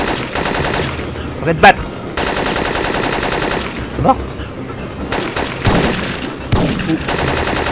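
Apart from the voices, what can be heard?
gunfire in the video game Syphon Filter 2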